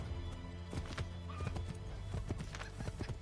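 Horse galloping in Assassin's Creed 3, a fast, loud clip-clop of hooves driving steadily throughout with a whinny in the mix and game sound beneath.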